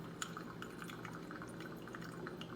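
Water dripping and trickling through the filter of a 32 oz glass Bean Envy cold brew coffee maker, a steady close patter of small drops with faint splashes throughout.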